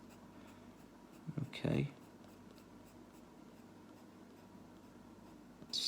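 A pencil crayon colours a cartoon fruit drawing on paper with faint, soft scratching in a quiet room, broken once by a short spoken word.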